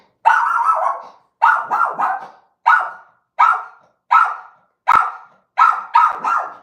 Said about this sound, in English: Oh, please don't bark, Daisy.